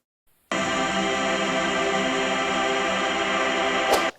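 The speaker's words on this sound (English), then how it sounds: "I added this atmospheric pad type of layer to sit in the background to give it an airy type of feel" A sustained, airy synth pad swells in abruptly and holds a steady, washed-out tone, with a faint bright shimmer just before it cuts off.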